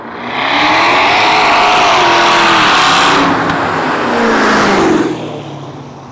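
A twin-turbo, supercharged Dodge Charger Hellcat engine accelerates hard, its roar rising in pitch then easing back, loud and close with a whooshing, whirring edge over the engine note.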